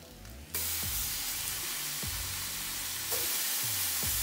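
Apple smoked bacon frying in a pan with no added oil, a dense even sizzle that jumps suddenly louder near the start and swells again later, with low thuds from handling.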